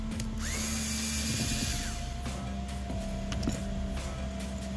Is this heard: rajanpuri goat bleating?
no